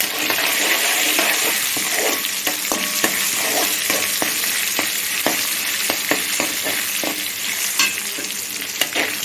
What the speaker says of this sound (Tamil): பூண்டு வந்து நல்லா வதங்கிடுச்சு சிகப்பாயிடுச்சு